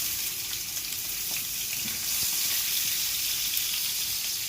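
Onions frying in bacon fat in a pan, giving a loud, continuous close-up sizzle and crackle with a few faint stirring sounds and no talking.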